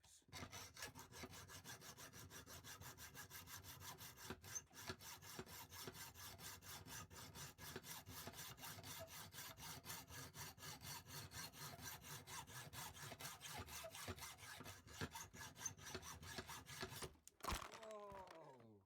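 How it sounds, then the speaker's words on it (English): Hacksaw cutting through 3mm material during a John Deere 6920 tractor cockpit update, fast regular back-and-forth rasping strokes close to the microphone, stopping near the end with a brief clatter. "Because it's 3mm, I'm using a hacksaw."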